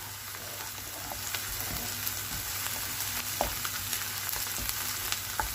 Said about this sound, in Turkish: Evet, soğanlarım kavruluyor.